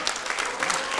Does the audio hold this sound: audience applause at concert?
yes